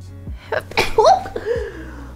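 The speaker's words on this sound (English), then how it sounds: "I have to sneeze, but it's not happening." A single sudden human sneeze, with a quick sharp intake of breath and then an abrupt explosive burst, loud and close.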